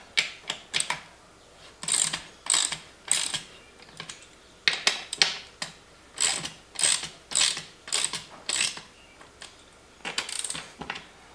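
Wrench ratcheting bolts on an off-road beadlock wheel during tire installation, heard as repeated bursts of rapid clicking, roughly a dozen strokes with short pauses between them, close and clear with no talk.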